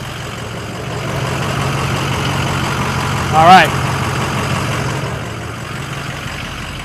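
A Ford F250 pickup with a 6.0 engine idles steadily, loud and close, with a brief louder swell midway and a voice speaking briefly over the rumble.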